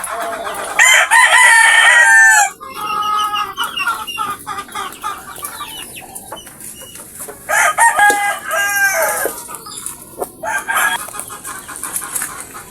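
Several chickens cluck and a rooster crows loudly and close at a backyard coop after rain, with repeated crowing bursts over steady clucking and background noise.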